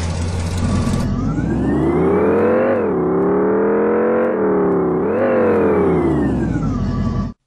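Powerful SUV engine running loud and close, its roar rising and falling through several revs with a tonal whine that climbs and dips, cutting off abruptly at the end, no talk.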